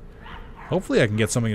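Dog barking and yipping in a horror video game, several sharp barks in quick succession following a voice talking over the gameplay.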